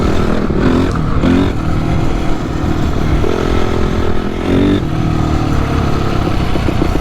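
Repaired Honda CRF 250 motorcycle engine running with a regenerated carburetor, a steady close rumble with brief rises in revs and some mechanical clatter.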